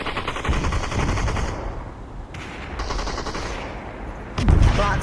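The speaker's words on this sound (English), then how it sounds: "Blocks just took out Flash Bolo with an M10" M10 gunfire in a video game: rapid automatic bursts rattle loudly and steadily across most of the span, with a short pause midway and a heavy thump near the end.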